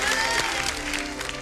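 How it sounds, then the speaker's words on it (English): A choir group applauds itself in a rehearsal space, a short steady burst of clapping from many hands, fairly close, with faint voices and a held tone underneath. "Let's give ourselves a warm round of applause."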